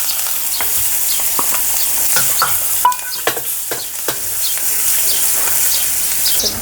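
Potatoes fry in hot oil with cumin, asafoetida, green chillies and curry leaves, giving a loud, continuous close sizzle with frequent sharp crackles and spatula stirs throughout.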